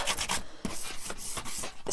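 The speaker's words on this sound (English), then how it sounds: "kind of a light sanding." Steady back-and-forth rasping strokes of light hand sanding on wood, close and fairly quiet, in an even rhythm.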